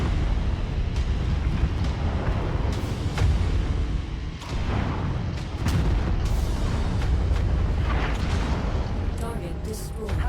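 In MechWarrior 5, a destroyed target goes up in a heavy, rumbling explosion, with deep booms and crackling blasts rolling on continuously over a thick low-end battle din.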